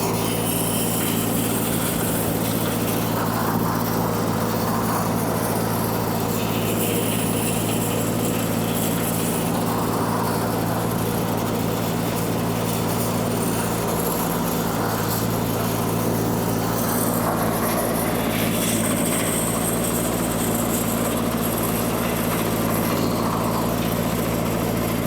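A 1948 Ford 8N tractor engine runs steadily while reversing with a back blade on a washed-out driveway, a loud continuous low chugging drone up close, with faint scraping over it and no talk.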